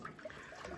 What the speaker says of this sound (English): just get a jug of water and just rinse out the inside of that heat exchanger and let the water run through